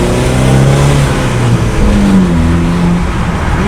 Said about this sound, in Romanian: Evacuarea chiar îmi place când se aude.